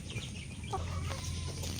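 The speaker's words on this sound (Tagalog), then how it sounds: "Yan po ang ating mga pulit. Yan po ay Boston Kerso." Young pullet hens of a Boston cross breed clucking on a small farm, soft scattered clucks against a steady low background hum, close by and continuous.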